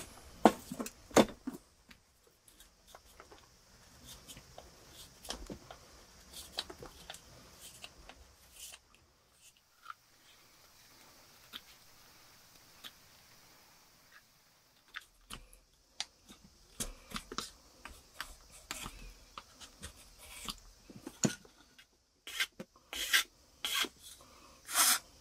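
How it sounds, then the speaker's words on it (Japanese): Wood is shaved by hand to trim the sides, heard as soft, close, irregular rasping and scraping strokes with short pauses and a quieter stretch midway. "もうちょっとあと脇削ってやればいいかな"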